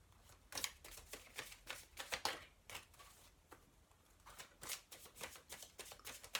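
Tarot cards being shuffled up close, in several quick riffling bursts separated by short pauses, crisp and fairly quiet.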